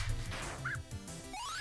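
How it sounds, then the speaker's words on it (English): A dog in Undertale gives a short burst of barks and yips, bright and close, mixed with squeaky game sound effects and a rising chime at the end. "That's a cool dog, though."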